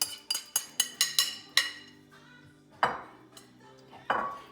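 Chopped broccoli pieces dropped into a saute pan for a quinoa vegetable stir-fry, heard as a quick run of six clattering clinks followed by a few louder, separate thuds and clanks, close and with no one talking.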